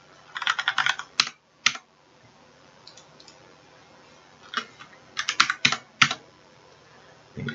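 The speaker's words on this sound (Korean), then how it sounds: "여기서 엔터, 엔터, 엔터 이렇게 두 번 눌러주시면 바로 저장되는 것을 볼 수 있습니다" Computer keyboard keys typed in short clustered bursts with a few separate sharp presses like the Enter key, close and clear over a quiet room with no voices.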